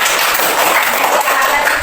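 A fourth-grade class applauds together in the classroom, a loud, dense burst of many small hands clapping, even and sustained without a break.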